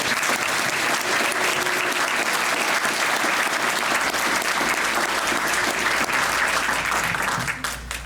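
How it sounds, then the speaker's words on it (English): A crowd at an awards ceremony for teachers applauds steadily, a loud and sustained wash of clapping that carries on without a break and eases off only at the very end. "How about a round of applause for them?"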